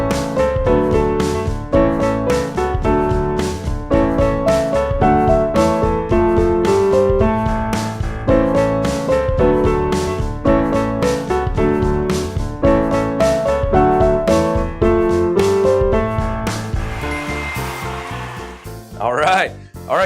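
Piano playing the intermediate verse of a song with a bouncy, evenly pulsed left-hand pattern under chordal melody, loud and close. The playing thins out near the end into brief noise.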